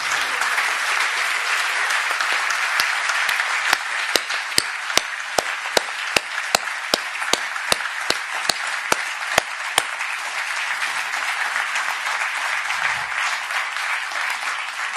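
Sustained audience applause at a French talk with Erri de Luca and Marc-Alain Ouaknin, a dense steady wash of clapping across the whole stretch with a run of sharp, evenly spaced louder claps cutting through the middle.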